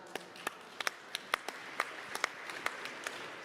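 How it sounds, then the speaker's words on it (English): An audience at a conference on the human rights of girls and women claps for sponsors: faint, sparse, separate claps scattered at an uneven pace, no talking. "Can we all clap for both of them on my behalf?"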